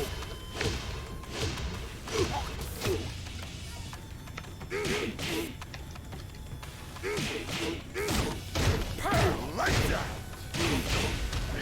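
Tekken 7 fight action played on a PC with a keyboard: repeated punchy thuds, smacks and whooshes in quick irregular bursts, with game voices grunting and shouting throughout at a steady moderate level.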